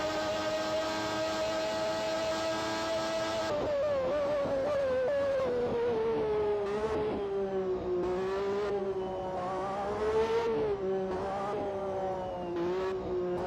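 Race cars scream past on the final lap of the video game Grand Prix 4, a loud sustained engine whine with shifting pitch as the cars rev and change gear, steady and close throughout with no talking.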